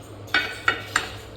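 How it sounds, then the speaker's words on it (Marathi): An iron griddle (tava) being set down on a kitchen stove, three sharp metallic clanks spaced evenly and close by, with no talk. "तवा टाकूया एक साईडला"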